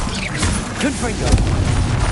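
Confringo blast spell exploding in Hogwarts Legacy combat: a loud, dense booming burst with crackling debris that swells toward the end, set among continuous battle noise and voices.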